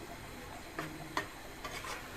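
Fish curry with sea fish and Malabar spinach being gently stirred in a pan, a few soft scraping strokes over a low simmering sizzle, close and quiet, no talk.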